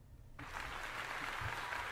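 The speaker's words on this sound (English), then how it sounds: "starting off with a round of applause" Applause bursts in at the opening of a song and carries on steadily, loud and close, over a low musical bed.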